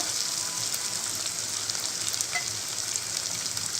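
Raw prawns frying in a pan for prawn curry, a steady, loud crackling sizzle with no pauses, heard alone throughout.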